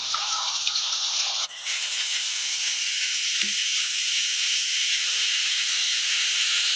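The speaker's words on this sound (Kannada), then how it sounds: "ಒಂದು ಚಮಚ ಶುಂಠಿ ಬೆಳ್ಳುಳ್ಳಿ ಪೇಸ್ಟನ್ನು ಹಾಕಿ ಫ್ರೈ ಮಾಡ್ಕೊಳ್ತೀನಿ" Ginger garlic paste frying in a pan for a fish curry gives a steady, loud hiss of sizzling that runs throughout, with a brief clink partway through.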